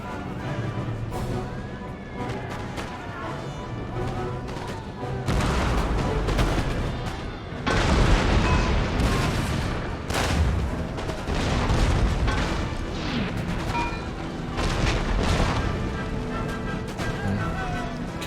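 Troops firing muskets from a fortress wall in the strategy game Empire: Total War, Great Britain campaign: dense, continuous volleys of gunfire and booming artillery crackle throughout, loud and sustained with rolling bursts.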